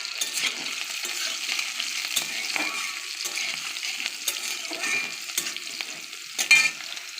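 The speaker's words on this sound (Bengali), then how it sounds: "দেখো তেল গরম হয়ে গেছে, কাঁচা লঙ্কা দিয়ে দিয়েছি" Green chillies and panch phoron frying in hot oil, crackling sizzle with frequent spoon scrapes and stirring clatter, close and moderately loud, a sharper knock near the end, no speech.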